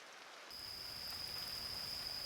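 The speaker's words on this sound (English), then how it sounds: "it started raining heavily, so Senna headed back home." Heavy rain falling at night, a steady wash of noise that sets in half a second in and continues unbroken, with a thin constant high-pitched tone running through it.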